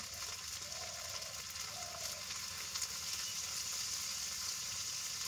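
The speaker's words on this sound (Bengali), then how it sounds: "মশলাটা ভালো করে কষে নিয়েছি" Spice paste of ginger, garlic, cumin, coriander and dried chilli with salt fries in a pan, giving a steady, soft sizzle with faint stirring, close but quiet, with no voices.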